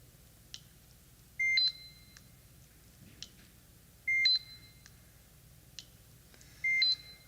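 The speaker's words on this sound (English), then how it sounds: "Notice that I'm also waiting for the beep before I move" A laser templating device gives three short electronic beeps, evenly spaced a few seconds apart, clear against a quiet room background with faint clicks between them.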